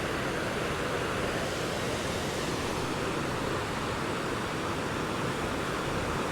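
Overflowing water from the Unnichai reservoir near Batticaloa rushes in a steady, broadband roar that stays close and even throughout, with no voices over it.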